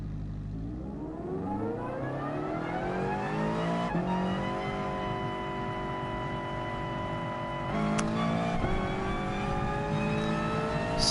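A Toyota 86 race car in a Gr4 racing video game at Willow Springs revs its engine, rising in pitch through the gears with sharp shifts, loud and steady with no talk.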